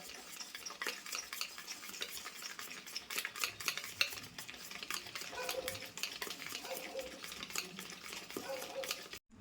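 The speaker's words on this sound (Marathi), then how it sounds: "आता अशी फेटून घेते ही चांगली दोन चार मिनटं अशी फेटून घेते" Moong dal batter for pakoda being whisked by hand in a bowl, a steady, brisk scraping and tapping rhythm that continues for several seconds at moderate volume, with no talking.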